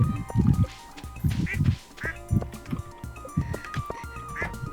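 Duck quacks from the Stardew Valley farming game come in repeated short bursts, loud and close, over soft game background music and chimes.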